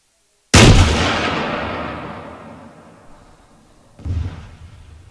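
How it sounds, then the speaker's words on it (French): A warhead explosion in Arma 3 with the RHS mod: one sudden heavy boom with a long rumbling decay, then a second, smaller thud a few seconds later, with no talk over it. "Si, si, ça a explosé."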